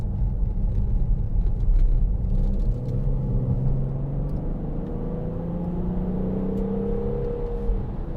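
An Audi Q7 6.0 TDI V12 Tiptronic Quattro SUV accelerating, a steady deep engine rumble and rising drone heard from inside the cabin, loud and continuous with no talking.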